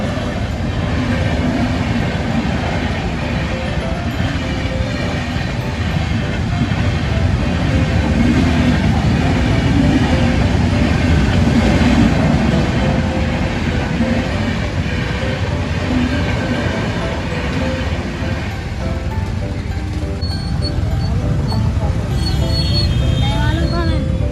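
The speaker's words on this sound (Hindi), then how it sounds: "अभी यहाँ से एक ट्रेन गुजरने वाली है" A train passes close by near a temple, a loud continuous rumble with rhythmic wheel clatter sustained throughout, with a faint high squeal toward the end.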